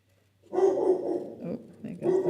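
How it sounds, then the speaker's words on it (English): A female dog barks and yelps indoors in a quick run of loud, close calls, with a short pause before a final burst. "Oh, there goes the dog."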